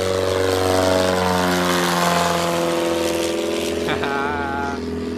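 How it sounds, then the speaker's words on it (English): Propeller airplanes drone loudly and continuously overhead at the Oshkosh AirVenture fly-in, a steady engine roar with no break over five seconds. "I'm going to try to talk in between the airplanes."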